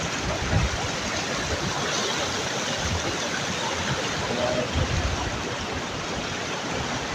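Continuous rushing of a natural spring stream outdoors, a steady broadband wash of flowing water that stays fairly soft and even throughout, with no clear voices.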